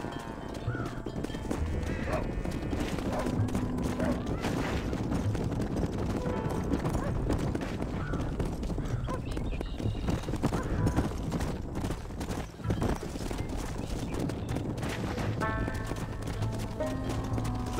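Several horses trot into a pen in the Red Dead Redemption video game, a steady dense clatter of hooves with occasional whinnies running continuously and fairly close, while game characters talk over it.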